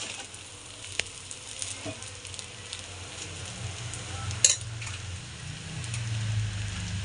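Butter sizzles steadily in a hot pan while vegetable noodles are being made, a soft continuous crackle with one brief click midway.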